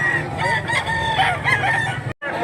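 A young White League rooster (stag) weighing about two kilos crows loudly up close, with a strained, warbling call and a brief pause near the end.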